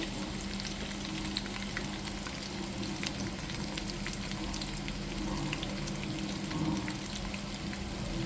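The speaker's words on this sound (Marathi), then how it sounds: "हे सगळं मंद गॅसवर तळून घ्यायचं" Cashew pieces, sesame seeds, fennel and turmeric frying gently in oil on a low flame for Diwali poha chivda, a soft continuous sizzle with faint crackles and occasional stirring, quiet and close, with no voices.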